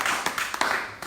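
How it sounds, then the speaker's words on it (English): Scattered hand claps from an audience at a gathering where Omoyele Sowore speaks, a handful of sharp near claps spread unevenly across a second of room noise. "And you guys have to clap for me for sitting beside her"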